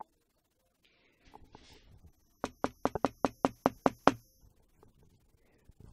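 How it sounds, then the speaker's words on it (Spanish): Knuckles rap on a bedroom door in a quick, evenly spaced series of about eight crisp knocks, close and clear, with faint shuffling before and after. "Unos golpecitos en la puerta de su habitación"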